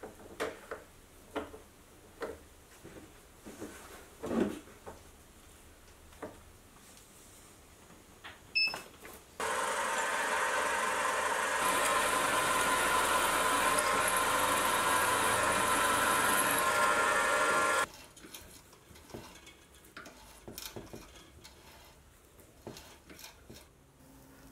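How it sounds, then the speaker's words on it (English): A milling machine cuts go-kart torsion bar parts: a steady loud machining whine lasting several seconds, set between scattered clicks and knocks of handling before and after. "I eventually decided to set it up in the milling machine"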